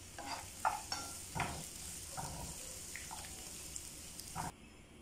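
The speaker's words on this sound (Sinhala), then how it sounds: "තෙල් ටික හොඳින් රත් වෙනකොට අපි කපාගත් ලූණු ටික දාගන්නවා" Chopped onions frying in a tablespoon of hot oil for a deviled omelet, soft sizzling with clinks and scrapes of stirring, fairly quiet and close, cutting off abruptly at the end.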